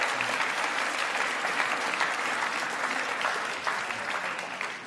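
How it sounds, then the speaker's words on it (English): An auction room audience applauds a winning bid at a Freddie Mercury evening sale, steady, dense clapping from a large crowd filling the whole stretch at an even level. "Give her a round of applause."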